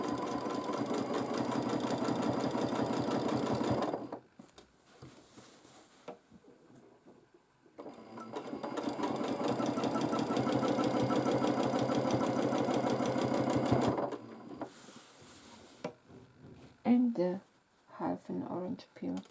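A sewing machine quilts a baby quilt with stitch-in-the-ditch lines, humming loudly in two long steady runs split by a brief pause, followed by someone talking at the end.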